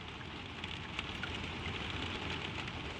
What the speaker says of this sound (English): let the soft sound of rain do the rest